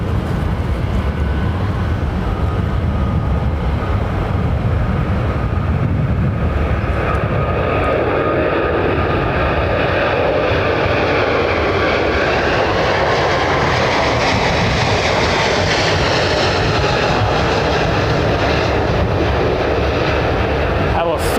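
An aircraft roars at London Heathrow Airport, a loud sustained engine rumble and whine that slowly rises in pitch as it passes close by, continuous throughout.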